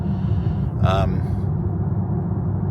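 A 2018 Porsche Panamera 4S 2.9L V6 biturbo engine idles with a low, steady rumble, overlaid by a brief burst of a man's speech near the start.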